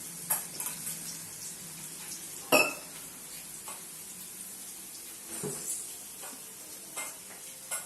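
Onions sautéing in a pan for karuvadu kulambu, a dried-fish curry, in a home kitchen. Faint sizzling runs under quiet, irregular stirring scrapes, with one sharp metallic clink partway through.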